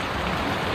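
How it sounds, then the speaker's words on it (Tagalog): Heavy rain pouring at midday in Mauban, Quezon, a steady dense hiss of downpour, close and continuous throughout the short moment with no other sounds. "Tanghaling tapat pero lakas ng ulan."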